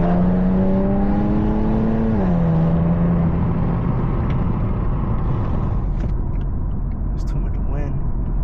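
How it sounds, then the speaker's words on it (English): A straight-piped Infiniti Q50S exhaust revs loudly up and then drops off, after which gusty wind noise takes over and a voice speaks. "I know the car be sounding like a little extra loud when I'm like in this area while I'm leaving my house"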